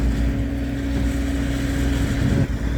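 A New Holland T9 615-horsepower tractor engine, pulling a 50-cubic-metre Brochard manure spreader, drones steadily at close range, a deep continuous rumble with wind buffeting the microphone and no voices.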